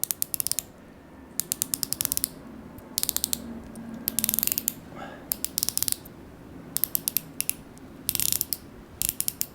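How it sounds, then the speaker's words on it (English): A Yema Superman dive watch's unidirectional bezel turns in quick bursts of crisp, close ratcheting clicks, separated by short quiet gaps over a faint background hum. "Clicks are crisp, and then it's not really going anywhere backwards even without this crown guard"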